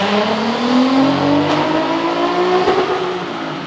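A Nissan 370Z biturbo revs hard on a dynamometer, its engine pitch climbing steadily in one long loud pull before easing off at the end.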